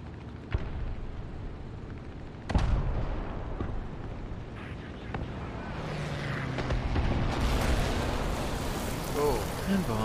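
A bomb blast goes off with a sharp, heavy boom during a World War II tank battle video game, followed by rumbling battlefield noise and scattered distant gunfire.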